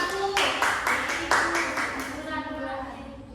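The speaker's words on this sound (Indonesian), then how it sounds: "semuanya beri tepuk tangan dulu untuk kelompok 1" A class claps together in a short burst of rhythmic applause, about eight quick beats, fading out at the end amid classroom noise.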